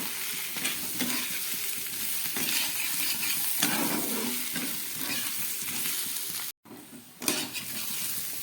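Fried potatoes are stirred and sautéed with turmeric and spices in a pan for aloo dum. A steady sizzle runs under repeated scraping stirs, with one brief silent break near the end.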